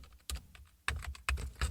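Close computer keyboard typing while entering a layer name in Photoshop CS4, a few quick clusters of key clicks separated by short pauses, with no talking.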